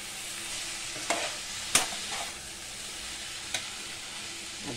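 Chowmein noodles sizzle in hot oil in a pan as they are stirred, a steady hiss with a few sharp scrapes and clatters of the utensil, close and without talk.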